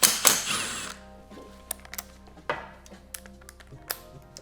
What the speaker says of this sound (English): So just loosen up these bolts.